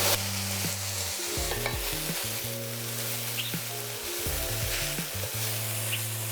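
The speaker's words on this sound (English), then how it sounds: "you want to continue cooking until the mushrooms have cooked through" Mushrooms frying in olive oil in a pan, a steady close sizzle with repeated stirring scrapes and clinks of a utensil against the pan, no talking.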